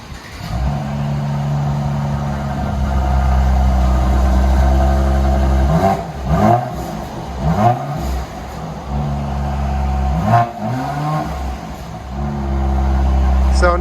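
Exhaust note of a 2018 Mercedes E43 AMG with a 3.0-liter twin-turbo V6 and resonator delete, a loud steady idle broken by several sharp revs that rise and fall, recorded close, with voices briefly audible.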